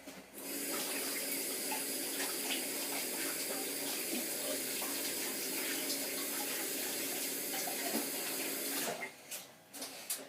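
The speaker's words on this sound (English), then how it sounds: "I just need to wash my hands again." A kitchen tap runs steadily into a sink while hands are washed after making cherry scones, a broad continuous splashing rush lasting most of the clip before cutting off near the end.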